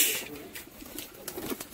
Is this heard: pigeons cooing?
yes